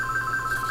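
A telephone rings with a steady, pulsing electronic warble, loud and close indoors, with no voices over it.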